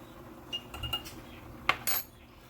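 A utensil clinks and scrapes against a bowl a few times while deodorant ingredients and bentonite clay are stirred, with brief, fairly quiet metallic taps.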